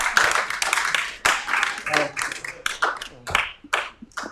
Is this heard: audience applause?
yes